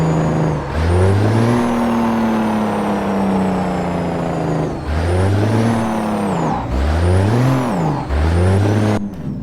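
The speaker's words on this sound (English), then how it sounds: "And jake brake" A Mack truck's engine brake in American Truck Simulator barks in repeated loud, deep, rumbling bursts, its pitch rising and falling as the revs change, with no one talking.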